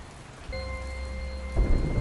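Steady rain pours in a dense bamboo forest during a thunderstorm, and a deep rumble of thunder swells near the end, loud and close, with no voices.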